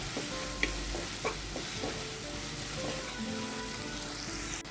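Small kanchi fish frying in a pan and being stirred, with a soft continuous sizzle and occasional scraping clinks of the spatula, fairly quiet and close.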